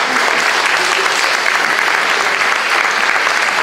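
Loud, dense audience applause at a live show by the Orquesta Tan Gomías at Casa del Bicentenario, a continuous close roar of many hands clapping with no letup.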